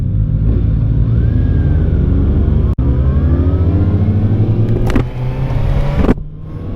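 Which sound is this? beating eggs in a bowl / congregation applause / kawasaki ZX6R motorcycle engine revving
kawasaki ZX6R motorcycle engine revving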